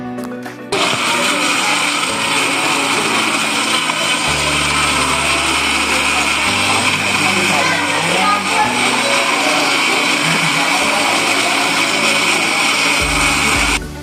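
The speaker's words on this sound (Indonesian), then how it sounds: "Setelah itu blender bawang-bawangnya hingga halus." A blender purees garlic and onions, whirring loudly and continuously, its motor pitch shifting a few times as the contents break down.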